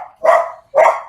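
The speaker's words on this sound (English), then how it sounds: "Oh, God, that fucking dog." A dog barks twice, two loud, close, separate woofs about half a second apart, with no one talking over them.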